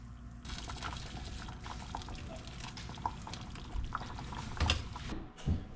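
A pot of wild turkey pastalaya simmering steadily, with a low bubbling, liquid texture throughout and a few louder plops and splutters near the end.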